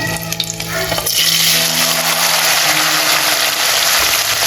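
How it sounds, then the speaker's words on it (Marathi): Paneer pieces drop into hot oil in a pan and sizzle loudly, a harsh, steady frying hiss that swells after the first second and keeps going up close. "हे जे पनीरचे पीसेस आहे ना त्यांना टाकूया आणि छान प्रकारे तेलात फ्राय करून घेऊया"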